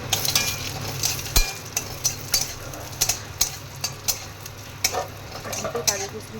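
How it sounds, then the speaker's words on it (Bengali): Cashews and raisins frying in ghee in a wok for Basanti pulao, a steady low sizzle with sharp clicks and scrapes of a spoon stirring against the metal, close and moderately loud. "কাজু কিশমিশটা ভাজা হচ্ছে।"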